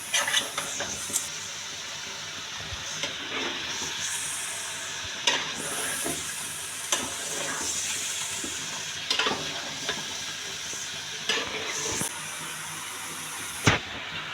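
Beef stir-fried in a pot for a curry with raw jackfruit, a continuous close sizzle broken by repeated scraping strokes of a spoon and a sharp clank near the end.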